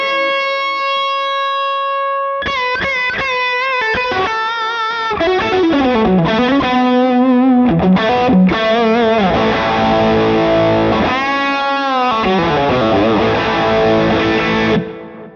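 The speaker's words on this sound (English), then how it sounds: "I'll add some reverb to this. Maybe I'll add just a little bit of delay here." An electric guitar runs through an FM9 with reverb, delay and a lo-fi tape effect, playing sustained saturated lead lines and bends that ring continuously and loud, with no talking.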